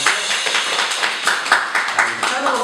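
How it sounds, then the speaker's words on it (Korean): A church congregation at a Wednesday worship service claps in thanks, a short burst of steady, moderately loud hand clapping mixed with some voices. "이 하나님 감사의 박수 드리겠습니다."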